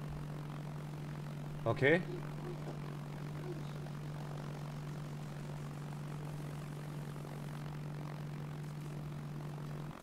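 Steady propeller airplane engine drone in ARMA 3, a constant low hum running throughout, with a brief spoken word near the start.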